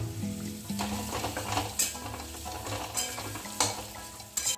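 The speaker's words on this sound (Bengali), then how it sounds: "মাথাটার সঙ্গে ভালো করে আমি কষিয়ে নেব মশলার সঙ্গে" A katla fish head is sautéed with spices in a pan, giving a close, steady sizzle broken by repeated scraping stirs from a spatula, with no voices.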